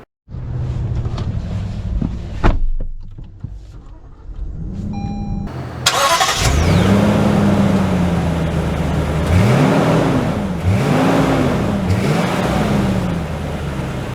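Lexus GX 460 SUV starting up and pulling away, with a door thud and clicks, then the engine catching and revving through several rising and falling gear shifts under road and wind noise.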